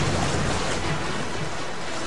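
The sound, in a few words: waves crashing on the beach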